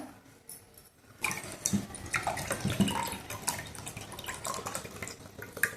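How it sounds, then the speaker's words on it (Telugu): Cool water poured into a rose syrup drink with lemon juice, a soft, close splashing and trickling stream that starts after a quiet second and runs on with small liquid gurgles, no voices. "కూల్ వాటర్ వేసుకున్నాను అనమాట"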